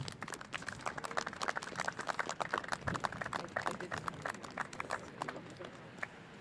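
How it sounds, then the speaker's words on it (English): A small gathering at a Safe Routes press conference and ribbon cutting claps steadily, with sharp, separate hand claps running the whole time at moderate loudness and a thin outdoor background. "let's have a round of applause right now for everyone that made this project possible"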